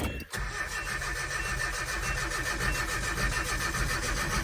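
A car engine starts after a rebuild, with the spark plug timing advanced at the distributor, and settles into a steady, loud running note that lasts throughout.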